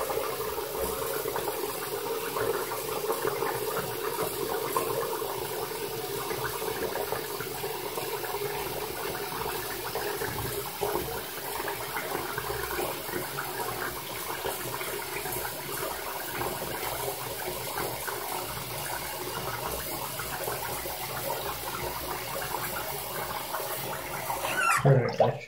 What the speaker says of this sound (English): I'm just going to let the water run.